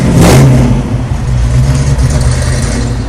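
A 1995 Ford Mustang GT V8 revving loudly up close, a strong burst of throttle near the start easing into a steady, rumbling engine drone that carries to the end, with no voices.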